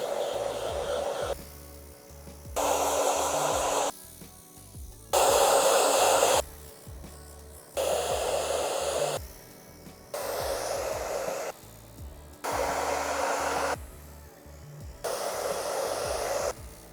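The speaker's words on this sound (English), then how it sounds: "Now just gonna come in with a hairdryer just to help dry each layer." A hair dryer on the cold setting blowing in repeated bursts, its whooshing airflow rising and falling in pitch as it moves closer and farther, steady hum underneath.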